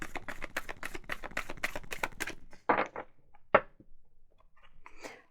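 Tarot cards being shuffled by hand: a quick, even run of crisp clicking riffles, then a few isolated taps and rustles, close and quiet.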